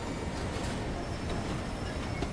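Train running in the rail-building video game Railgrade, a steady, dense rumble of rolling wagons with rail noise that holds constant throughout, close and continuous with no talk over it.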